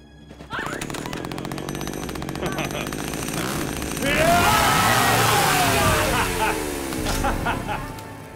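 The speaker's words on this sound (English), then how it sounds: "my trademark signature, patent-pending, gas-powered, two-cycle, 20-inch chainsaw" A gas-powered two-cycle chainsaw with a 20-inch bar runs loud and close with its chain locked, a steady buzzing drone that rises in pitch midway as it is revved, with talk and commotion around it.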